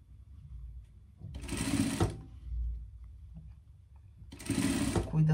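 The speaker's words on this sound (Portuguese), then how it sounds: "Você pode estar fazendo essa peça inteiramente na overlock," An overlock sewing machine stitches a sleeve onto a pet pajama in two loud, close bursts of rapid whirring, each lasting under a second, separated by a quieter pause with faint handling sounds.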